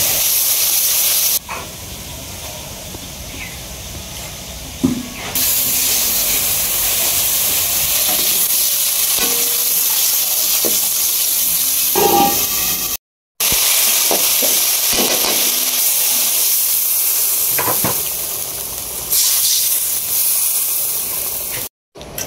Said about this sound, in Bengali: ভাজা মাছটি দিয়ে দিতেছে মুখির তরকারির মধ্যে